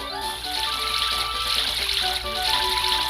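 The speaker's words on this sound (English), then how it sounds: "Water it." Water trickles and splashes in a continuous stream as a planted berry is watered in Pokemon HeartGold, a bright, steady pouring sound effect running alone for a few seconds.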